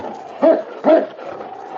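A sled dog fusses in the snow in a radio drama, giving two short whining yips about half a second apart, close and moderately loud, with faint background in between.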